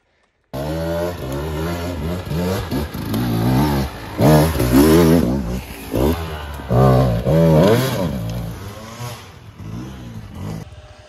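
A Beta 200RR Race Edition two-stroke dirt bike engine runs on a rainforest trail, revving up and down in repeated rising bursts at close range, loud and steady for most of the stretch before easing off near the end.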